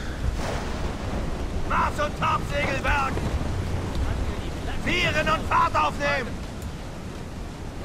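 Stormy seas in the pirate video game Assassin's Creed IV Black Flag, with steady roaring wind and crashing waves filling the background while someone shouts sailing orders over it.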